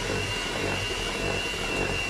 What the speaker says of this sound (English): I'm gradually going to whisk him up like this